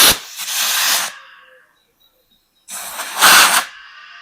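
Compressed air hisses from an air tank through an air chuck and long hose in two loud bursts, roughly a second each, separated by a brief silence.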